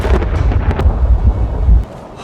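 Thunder from a heavy thunderstorm rolls close and loud, a deep sustained rumble with several sharp crackling bursts before cutting off near the end.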